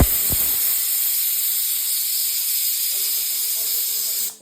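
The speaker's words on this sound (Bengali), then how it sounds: "সিটির আওয়াজ শুনতে পেয়েছেন, ওটাতে হচ্ছে আপনার এটাতে মোমো চাটনি বানানোর জন্য টমেটোটা সেদ্ধ করতে দেওয়া হয়েছে।" Pressure cooker whistling loudly and steadily as tomatoes boil for momo chutney, a continuous close hiss of escaping steam with a brief knock at the start, lasting nearly the whole clip before cutting off.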